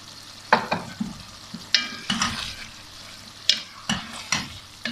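Capsicum sizzling in a pan with peas and carrots for chicken veg biryani, a steady fry under repeated scraping stir strokes at a regular rhythm, close up.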